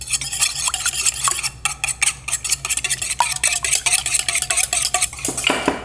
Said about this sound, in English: I've added in the buttermilk, a little bit of the oil, and the egg, and I'm just gonna whisk them up really quick